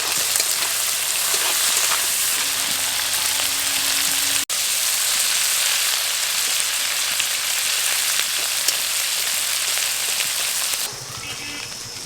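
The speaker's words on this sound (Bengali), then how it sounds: "এবার চিংড়ি মাছটা ভেজে নেব।" Prawns seasoned with salt and turmeric fry in a pan, giving a steady, close hiss and sizzle like rain that runs almost the whole time, with one sharp click midway and a quieter stretch at the end.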